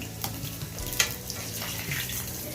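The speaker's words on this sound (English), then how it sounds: "he's gonna go and deep fry these again" Plantains deep-frying in hot oil for Haitian griot and pikliz make a steady, close sizzle and bubbling hiss, with a faint utensil clink partway through and no voices.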